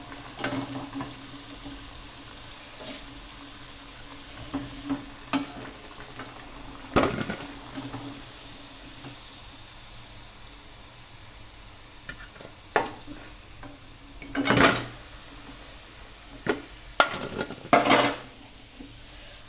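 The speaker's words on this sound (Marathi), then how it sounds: "अशा तऱ्हेनं सगळ्या वड्या मी शालो फ्राय करून घेणार आहे" Coriander vadi shallow frying in a pan: a quiet sizzle underneath, broken by occasional louder scrapes and clinks of a utensil stirring and turning the pieces.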